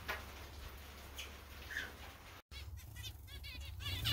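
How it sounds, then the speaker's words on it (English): Zebra finches in their seasonal aviary, with faint scattered chirps and soft wing flutters against a quiet background and a brief dropout midway. "So here are the zebra finches back in their kind of spring, summer, fall house."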